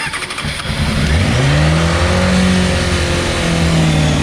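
A Honda CBR 600 F4 motorcycle engine cranks, catches and fires up after long storage, then revs loudly and settles into a high, wavering idle. It is close, with no voices.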